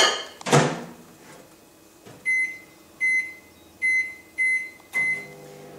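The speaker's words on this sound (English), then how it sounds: "we could pop that in the microwave for a few seconds" A microwave oven's door clunks, then the machine hums quietly while heating melt and pour soap, five short, bright beeps sounding at a steady pace, close and clear.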